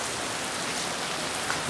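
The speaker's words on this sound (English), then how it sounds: "the rain's starting to get depressing" Heavy rain pours down in a steady, dense hiss that stays loud and even throughout, with no voices.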